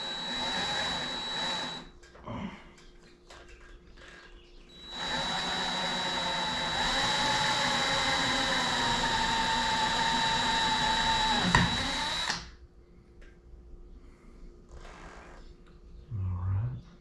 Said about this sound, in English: So I'm gonna drill those holes